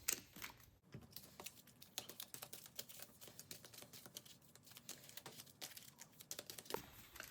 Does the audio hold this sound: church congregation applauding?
no